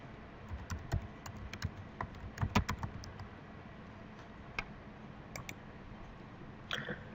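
Fingers typing on a computer keyboard at close range, with quick irregular bursts of soft key clicks separated by brief pauses, no talk.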